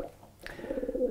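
Soft, low pigeon cooing rolls in after a brief quiet moment, a throaty repeated coo heard fairly close, with a faint higher call just before.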